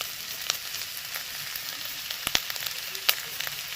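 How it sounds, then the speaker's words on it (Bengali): Grated ginger sizzles in a hot pan while a spatula keeps moving it around. A constant crackling fry sounds close, broken by a few sharp clicks and taps from the spatula. "ভালো করে নাড়তে হবে দেখো সমানে খুন্তি চলবে বন্ধ করলে হবে না"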